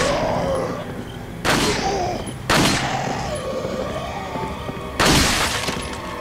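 Gunshots and bursting heads in Resident Evil 4 on PlayStation 4, three sharp loud blasts spaced a second or two apart, each followed by splattering debris over a steady in-game ambience, with no talking.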